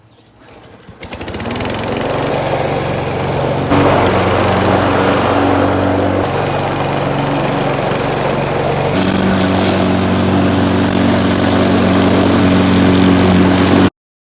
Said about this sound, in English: So I'll kind of show you what mowing looks like.